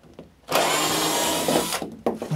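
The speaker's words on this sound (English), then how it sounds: "So I'm going to go ahead and get my drill, and we'll start popping those out of there." A power drill runs loud and close for over a second as it backs screws out of model railroad track, then stops, followed by a few brief clicks and taps.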